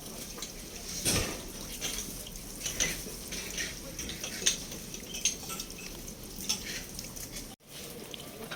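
Stainless steel forks handled at a secondhand flea market stall give off scattered light metallic clinks, with one sharper clatter near the start, soft and close over quiet background noise.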